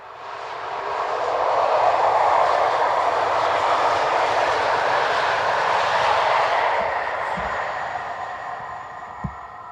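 A light-engine locomotive running alone on a European railway passes by. A broad, rumbling roar swells, holds and slowly fades, with a few sharp clanks near the end.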